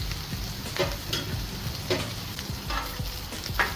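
Marinated carne asada sizzling on a hot cooking surface for street tacos, with a loud, continuous frying hiss and crackle up close, broken by occasional scrapes and stirring sounds.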